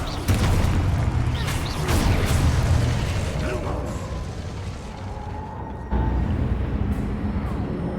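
Confringo fire spells blast in combat in the video game Hogwarts Legacy: loud, heavy booming explosions with rumbling low-end, and a fresh sharp burst about two-thirds of the way through.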